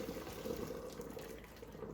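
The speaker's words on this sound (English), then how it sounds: "the noodles are done cooking, so I am going to drain them" Hot water pours steadily from a pot of cooked noodles into a kitchen sink as they drain, a continuous close rushing splash with no talking.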